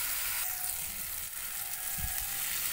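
Hot water goes into a sizzling pan of Bengali katla fish curry, giving a steady, close hiss with a short splashing burst near the end.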